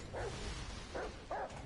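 Dog barks in the video game Remnant: From the Ashes: three short, muffled woofs spaced apart, distant and fairly faint over a steady background hiss, with no talk.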